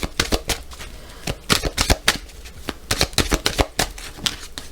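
Tarot cards shuffled and cut by hand, a quick run of crisp riffling snaps and flutters in uneven bursts, close and fairly loud, with no talking.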